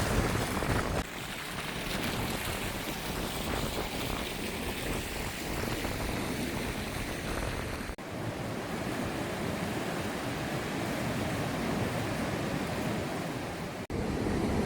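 Strong, wind-whipped sea surf rolls and crashes steadily onto the beach at a resort in Nai Thon, Phuket, with gusty wind noise buffeting the microphone throughout.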